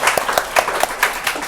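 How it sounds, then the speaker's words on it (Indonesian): An audience at a public-service discussion event gives a short burst of applause for a presenter, with a handful of distinct, fairly close claps in quick succession. "Kita kasih tepuk tangan dulu."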